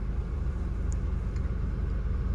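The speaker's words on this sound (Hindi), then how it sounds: "हम एसी ऑन करने जाते हैं" A car's air conditioner on its first fan setting, running as a steady low rumble and hum inside the cabin with the engine going, continuous and even throughout.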